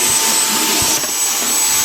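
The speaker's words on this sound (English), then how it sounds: "next with the vacuum, I'm gonna go ahead and do all the baseboards." Vacuum cleaner running steadily at close range while cleaning baseboards in a family house, a loud continuous whooshing drone with no voices.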